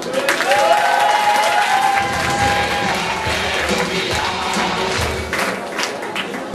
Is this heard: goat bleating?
no